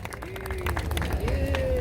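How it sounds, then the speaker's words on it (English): Crowd at an outdoor street naming event for Bangladesh Street clapping, brief scattered applause under a speaking voice and low background rumble, moderately distant. "Let's give him a round of applause."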